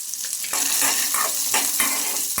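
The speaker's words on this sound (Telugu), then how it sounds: "ఇంకా ఈ పల్లీలు కూడా బాగా ఫ్రై చేసుకోవాలి దీంతో పాటు" Peanuts frying in oil in a pan for a wheat rava breakfast dish, a continuous close sizzle with rhythmic stirring scrapes, no voices.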